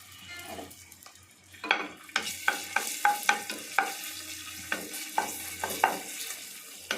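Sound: ginger garlic paste frying in oil

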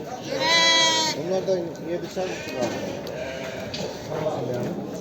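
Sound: sheep with lambs bleating at livestock market

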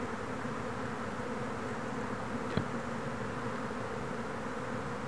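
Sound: honey bees buzzing around a swarm

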